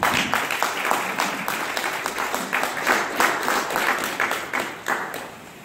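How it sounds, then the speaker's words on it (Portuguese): A church congregation applauds together, a dense, steady burst of many hands clapping that holds for several seconds before tapering off, with no speech over it. "Dá uma salva de palmas."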